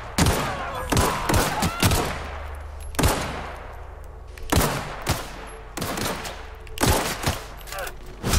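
Gunfire in the video game The Outer Worlds, sharp loud shots in quick bursts and single cracks spread across the stretch, with echoing tails between them.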